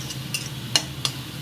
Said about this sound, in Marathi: यात छान असं मस्त परतायचं, हलवून घ्यायचं